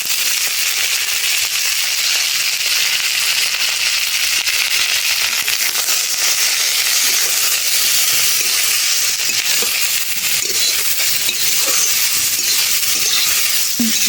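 Roselle petals frying in hot mustard oil with dried chilli and black mustard seeds in a kadai, a loud, steady sizzle with scattered crackling pops throughout and no talking.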